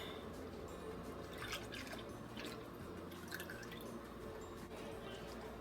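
Whole milk and half and half poured into a pot, a soft, steady liquid trickle with faint dripping, heard quietly throughout.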